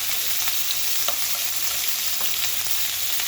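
Meat sears in a very hot pan, a loud, steady, close sizzle with faint crackles throughout and no voices.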